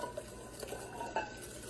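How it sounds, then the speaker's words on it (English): A whisk or spoon stirs crème brûlée egg custard mixture in a bowl, giving faint, quick scraping and light clinking strokes close by, soft and brief with no talking. "you're gonna mix as quickly as you can because you don't wanna curdle those eggs"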